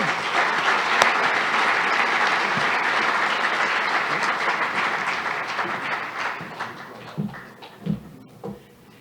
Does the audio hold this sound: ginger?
no